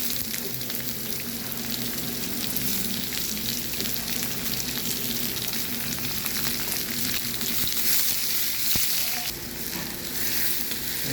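Garlic, onion and dried red chillies sauté in a pan for a dried-fish curry, giving a continuous close, even sizzle with occasional stirring and small pops throughout.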